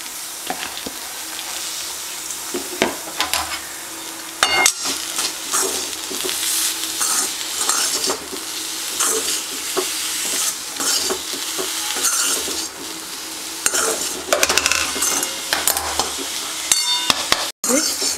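Grated coconut stir-fried in a pan with black pepper, a sustained sizzle broken by frequent scraping stirs and occasional spoon knocks against the pan, close and fairly loud, with no talking.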